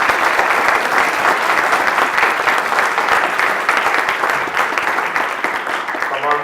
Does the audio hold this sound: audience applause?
yes